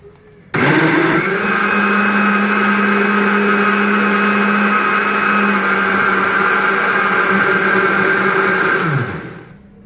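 A kitchen blender grinds besan (gram flour) batter for kadhi pakora, starting abruptly with a loud, steady whir that holds for about eight seconds before winding down and stopping.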